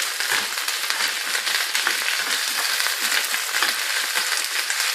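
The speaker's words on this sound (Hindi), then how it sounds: "भिंडियाँ भी साथ साथ तली जा रही हैं।" Frozen okra frying in a pan gives off a steady, dense hiss and crackle of sizzling oil that runs unbroken for the whole stretch, close and fairly loud, with no voices.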